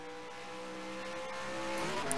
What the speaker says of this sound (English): Green flag waves. Chevy leads them off into turn number 1.